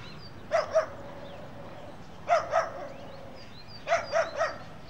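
A small dog in front of a railway station yaps in repeated pairs and triplets of sharp barks, fairly close, with brief pauses between groups over a faint background, heard from a train driver's cab.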